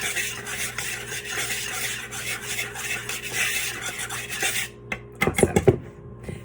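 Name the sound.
whisking ingredients together in a bowl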